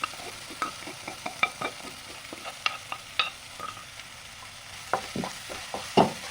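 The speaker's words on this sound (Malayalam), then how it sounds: "തക്കാളി ഉള്ളി നന്നായിട്ട് വഴന്ന് വന്നിട്ടുണ്ട് ഇനി നമുക്കിതിലേക്ക് നമ്മളെ ഇഞ്ചി പച്ചമുളക് വെളുത്തുള്ളി ചതച്ചിട്ട് ചേർത്ത് കൊടുക്കാം" Crushed ginger, green chili and garlic fry with onion and tomato in a pan for a vegetable tapioca biryani, giving a quiet, steady sizzle broken by irregular scraping stirs from a spoon, with no talking.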